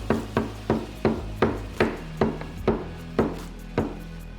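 Chisel struck repeatedly against the wood of a painted cabinet to distress it, about a dozen sharp, evenly spaced knocks, close and clear with no talk.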